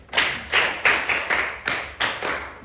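A class claps in unison in a classroom, about seven sharp group claps in a steady rhythm, close and fairly loud, with no talking.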